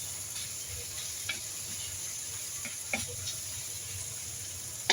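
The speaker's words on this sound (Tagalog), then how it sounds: "Ilalagay ko yung sitaw ngayon dito." String beans sautéing with tomato and onion in a pan give a steady low sizzle, with a few faint clicks of stirring.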